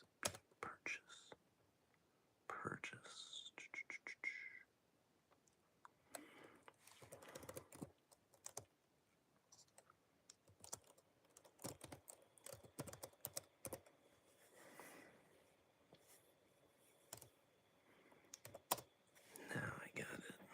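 Quiet keyboard typing during Java coding, in irregular bursts of soft clicks with pauses, mixed with low murmured voices and whispering.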